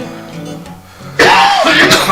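A cough burst from a person during a live evening talk show, loud and close, a single harsh fit lasting about a second after a quieter stretch of room sound.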